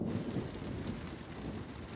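Rain falls outside a chateau in northwest France in August, a continuous, rumbling wash of noise with some wind, and nobody speaks.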